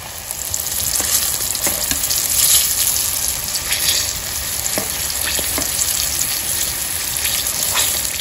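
Pieces of large fish belly sizzle and crackle in hot oil, a steady frying hiss with occasional sharper pops and a brief stir, no voices.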